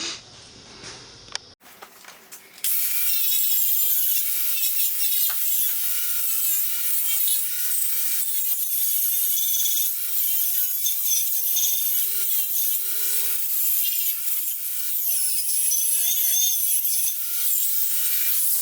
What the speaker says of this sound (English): I'll just wire wheel it and get all the splatter and stuff off